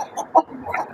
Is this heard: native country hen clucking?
yes